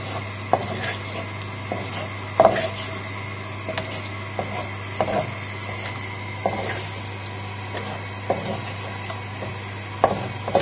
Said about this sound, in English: just stirring it lightly, just helping it melt